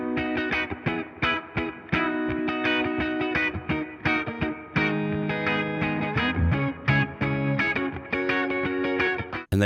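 A full band mix of a vintage-style pop track with a 100 Hz low cut and mild console drive saturation plays loud and dense, with punchy rhythmic hits throughout.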